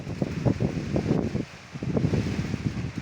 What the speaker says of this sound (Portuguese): Ó o vento.